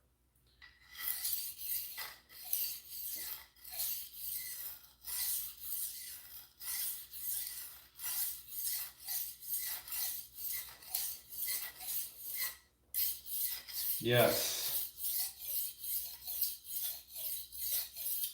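Knife blade drawn over a sharpening stone in steady repeated rasping strokes, close and rhythmic, with a brief pause and one heavier scrape midway; a single short word is spoken.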